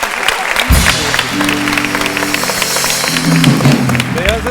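Studio audience applause on a Turkish television talk show, steady dense clapping throughout with music and voices underneath.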